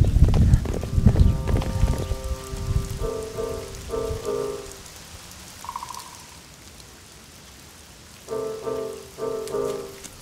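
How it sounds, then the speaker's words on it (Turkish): Heavy rain falling steadily outdoors as a broad hiss, with a cartoon music score playing over it in bursts and fading out in between. "Yağmur iyice bastırmadan eve dönseydik iyi olurdu."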